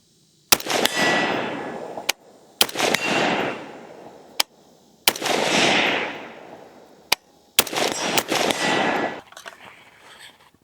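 An AR-style rifle with wooden furniture (Woox Vigilante) fires four sharp, loud single shots at roughly even two-to-three-second intervals, each crack trailing off into a long outdoor echo.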